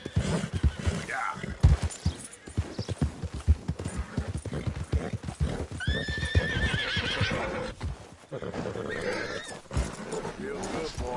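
A horse in Red Dead Redemption 2 gallops with rapid clip-clopping hooves and gives a few whinnies over game sound, while someone talks over it.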